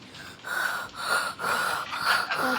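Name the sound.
creature breathing in video game Poppy Playtime Chapter 3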